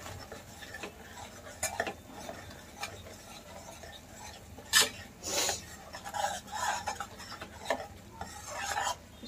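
Paneer masala roasting in a pan for restaurant-style Paneer Lababdaar, with a spoon scraping and stirring in irregular close rasps and clinks over a faint background hiss, no talking.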